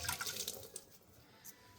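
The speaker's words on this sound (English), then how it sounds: "gonna wash this real quick." Running tap water splashes over a water filter part being rinsed in a sink, a steady close wash with a few brief splashes.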